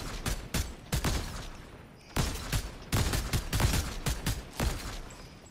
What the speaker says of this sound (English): you want me to fire a couple warning shots?